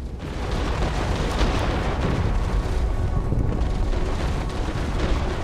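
Defense turrets being destroyed in Borderlands 3, a dense sustained roar of explosions and blasts that stays loud and continuous throughout.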